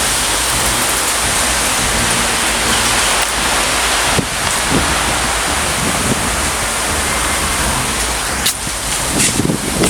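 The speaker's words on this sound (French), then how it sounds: "on a juste un rideau de pluie" Heavy rain pours down in a dense, steady roar during a thunderstorm, loud and constant throughout, with a few brief sharper bursts and gusts but no talking.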